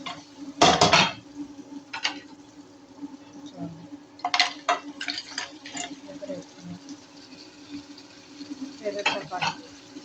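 Crab curry being stirred in a pan, with utensil scrapes and clatter against the metal in a few short bursts over a low, steady background hum, with quiet gaps between the bursts.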